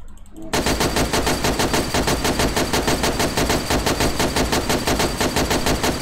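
A machine gun in the video game DayZ empties a full 100-round magazine in one loud, unbroken stream of rapid shots that begins abruptly and continues for several seconds.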